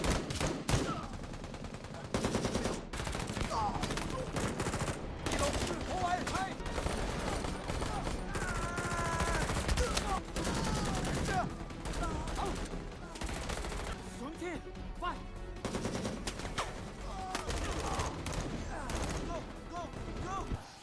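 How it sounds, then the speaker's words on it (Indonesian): Dense gunfire rattles through a film shootout in bursts and volleys, loud and continuous, mixed with music and effects throughout. "Baku tembak pun tak terhindarkan."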